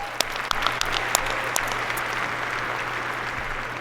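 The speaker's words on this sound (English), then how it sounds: "That's worth applause." A crowd at a university winter commencement in Madison applauds steadily, a dense wash of clapping with a few sharper claps standing out at the start, then holding even for several seconds.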